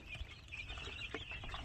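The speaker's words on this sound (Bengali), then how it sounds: "আপনারা দেখতে পাচ্ছেন এগুলো টাইগার মুরগির বাচ্চা, কাজী কোম্পানির।" Eight-day-old Tiger breed chicks from Kazi company chirp and peep continuously at close range, a busy, lively chatter of small bird calls with no talk over them.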